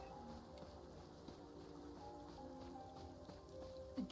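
Cold rain in the video game Elder Scrolls Online falls in a faint, steady patter of drops on surfaces, with a soft low rumble beneath and a brief louder tap near the end.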